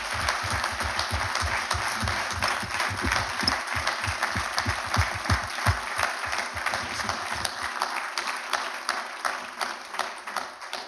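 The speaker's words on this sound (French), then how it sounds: "on peut tous applaudir bien fort." Audience applause at an awards ceremony, a dense steady wash of many hands clapping together for nearly eleven seconds, loud and sustained with a low rumble beneath, the low end falling away near the end.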